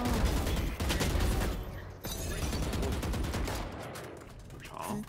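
Rapid bursts of gunfire in Valorant, ending in a headshot, fill the whole stretch loud and close, with a brief dip about midway and a sharp final crack.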